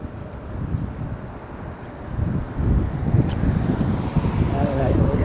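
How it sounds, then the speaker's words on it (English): Steady gusting wind roars and buffets the microphone on a city street walk, a broad rumble that swells louder partway through, with no clear voices. "Very windy today."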